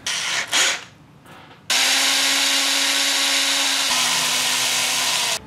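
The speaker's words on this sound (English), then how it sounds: "So now every pilot hole has been drilled out." A power drill boring pilot holes with a small bit in a wooden hornet lure, a steady high whine that starts abruptly after a few handling clicks, shifts pitch midway under load, then stops.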